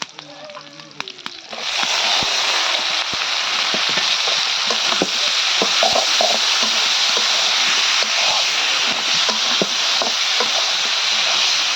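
A loud, steady sizzle of red amaranth leaves, flat beans and potato frying in a pan, with occasional stirring clicks. It starts after a brief quieter moment.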